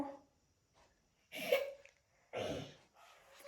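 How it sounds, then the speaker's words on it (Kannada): A person coughs twice in close succession, two short, harsh bursts heard up close against a quiet room, with a faint breath or throat sound just before. "ಕೆಮ್ಮು"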